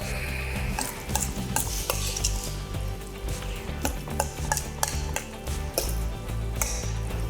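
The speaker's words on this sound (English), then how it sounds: "Mix that deliciousness up." A casserole mixture stirred in a bowl, thick wet squelching and scraping in a continuous close rhythm with occasional utensil knocks, no voices.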